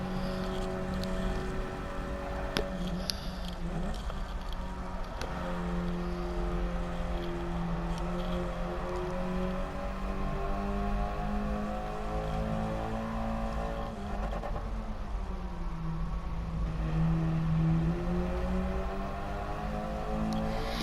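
A race car engine in Gran Turismo Sport drones continuously, rising and falling through gear changes as the car accelerates, with an opponent's KTM close behind. It is a steady moderate engine tone with no speech.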